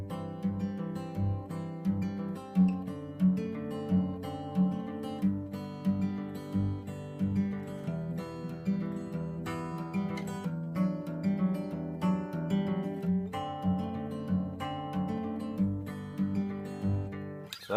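A fingerpicked acoustic guitar cycles a repeating pattern through several chord changes, alternating bass thumb and plucked upper strings in an even, steady rhythm, close and alone with no talking.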